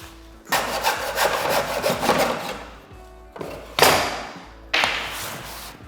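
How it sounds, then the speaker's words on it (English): Hacksaw blade cutting scotia bead at 45 degrees in a small mitre block, with a run of quick rasping back-and-forth strokes followed by two separate short strokes, close and clear. "I'm going to cut them at 45 by using a hacksaw blade and this little mitering block"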